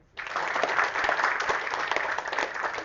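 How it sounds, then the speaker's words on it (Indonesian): Crowd applause bursts in abruptly and holds as a dense, continuous wash of clapping from many hands, steady and fairly loud right to the end. "Tepuk tangan."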